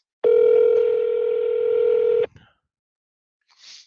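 An outgoing telephone call rings with a single steady electronic tone held for about two seconds, then cuts off into near silence broken by a faint brief blip.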